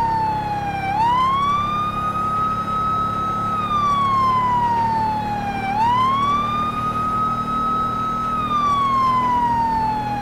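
Police car siren in the LSPDFR video game on a code 3 response, a loud, close wail rising and falling in slow sweeping cycles over a low engine rumble.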